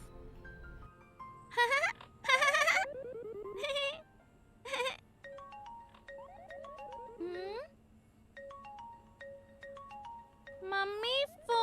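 A phone ringtone ringing indoors, a bright melodic electronic tune repeating in bursts and tonal phrases, moderately loud, with short pauses between phrases and a voice briefly heard.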